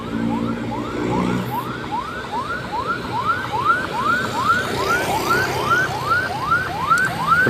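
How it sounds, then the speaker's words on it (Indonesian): A fire truck siren wails in quick repeating rising sweeps, steady and moderately loud, over the rumble of passing traffic, during a large fire in Cikarang. "Kembali pemadam kebakaran, mobilnya lewat ya."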